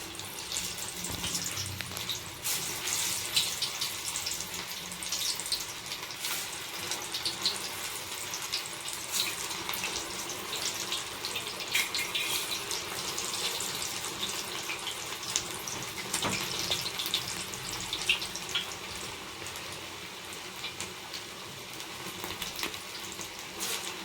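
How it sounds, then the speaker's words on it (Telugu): Spinach garelu, Telugu lentil fritters with palakura, deep frying in a pan of oil, giving a continuous bubbling hiss that stays even and close for the whole stretch, with no voices. "గోల్డెన్ కలర్లో వచ్చేంత వరకు వేయించుకోవాలి"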